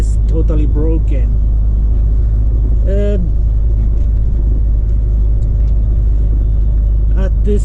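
A Volvo FH16 truck drives through a blizzard, its engine giving a steady loud low rumble throughout, with brief tonal squeaks and short knocks from the cab over the drone.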